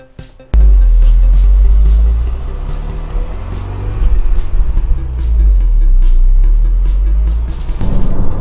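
A 2020 Range Rover Sport PHEV P400e plug-in hybrid with 400 horsepower accelerating hard, a loud deep engine drone rising and holding steady over several seconds, close and continuous with no talk.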